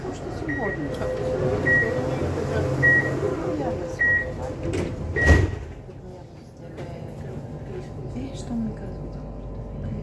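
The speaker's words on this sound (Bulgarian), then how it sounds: "Внимание! Вратите се затварят." Doors close on a Sofia metro train on line M3. Repeated warning beeps lead into a sharp thud of the doors shutting, followed by the hum of the carriage, with a voice speaking over it.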